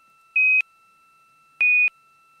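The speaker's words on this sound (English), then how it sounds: "It's a beep noise." Two short, identical electronic beeps sound about a second apart, each a clean steady tone starting and stopping abruptly, loud and alone against near silence.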